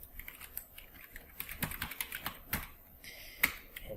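Rapid keystrokes on a computer keyboard while account details are entered, an uneven run of light, close clicks and taps with a few louder strokes, no voice.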